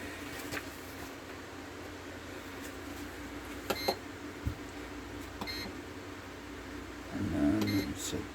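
An ULTREAN AF01 air fryer gives a few short, crisp beeps as its settings are entered, heard close over a steady low fan hum, followed by a brief rattling handling noise.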